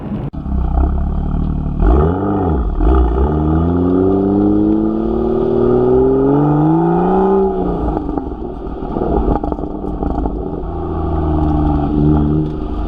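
BMW M2 with a 6-speed manual, cabin drone from the road while driving, with engine tone sweeping up and down through gear changes, a steady loud rumble and no talk.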